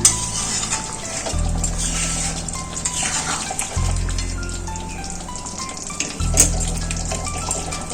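Hot water is poured into a pan of egg and potato curry, a soft splashing pour over a low steady hum, with a light clink or two near the end.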